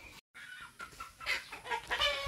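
Several chickens clucking softly nearby, with short irregular calls overlapping.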